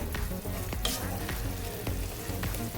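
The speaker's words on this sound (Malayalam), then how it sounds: "ശർക്കരയും നാളികേരമൊക്കെ നന്നായിട്ട് യോജിച്ചതൊന്ന് തിളച്ച് വന്നിട്ടുണ്ട്" A jaggery and coconut mixture bubbles and sizzles steadily in a pan while laddus are made from poha, with occasional sharper pops and spoon clicks over a continuous close hiss.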